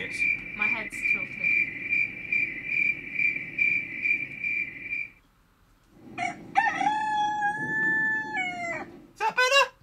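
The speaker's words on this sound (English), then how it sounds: "Have you done the crickets?" A cricket sound effect plays a steady, loud, high trill for about five seconds, then stops, followed by a rooster crowing and some voices.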